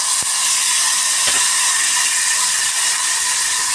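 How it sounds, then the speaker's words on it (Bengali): Chickpeas dropped into hot oil in a pan for spiced frying, giving a steady loud hiss and sizzle with a few brief metallic ticks, close by and with no talking. "চলো তেল গরম হয়ে গেছে, এবার ছোলাগুলো দিয়ে দেবো।"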